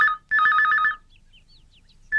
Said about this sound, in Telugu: ఏంటి ఫోన్ రింగ్ అవుతూనే ఉంది?